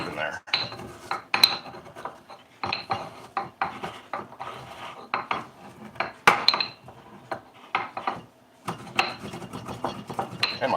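A hand grinder crushes roughly ground cloves in quick bursts of gritty rasping and crunching, close and fairly loud, with brief pauses between grinding runs.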